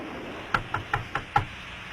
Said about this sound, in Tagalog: Sino kayo kumakatok?